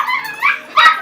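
A puppy yips and barks in two short, high-pitched bursts, close and fairly loud, with a brief whimpering tone between them and no talking.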